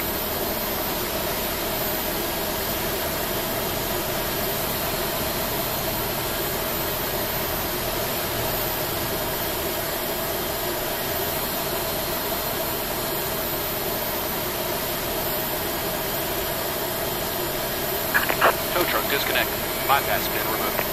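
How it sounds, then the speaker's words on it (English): An airliner engine runs steadily just after start in the FSX flight simulator, a constant broadband whine and roar filling the whole clip, with a few faint clicks near the end. "We have a good engine start."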